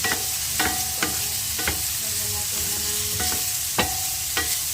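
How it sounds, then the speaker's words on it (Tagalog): Pakbet Ilocano vegetables stirred in a sizzling pan, a steady fry with repeated sharp spatula clacks at irregular intervals. "Tapos, pag halo-haluin na lahat"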